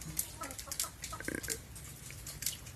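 Hens in a poultry shed struck by avian flu give scattered clucks and squawks over a constant low hum of the building, moderately near.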